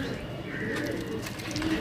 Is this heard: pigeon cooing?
yes